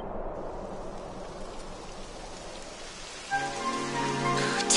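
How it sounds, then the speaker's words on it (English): Rain beginning to fall in a game, a soft steady patter that grows denser and louder, joined near the end by a brighter tonal layer of music or ambience. "It would have to go and start raining, wouldn't it?"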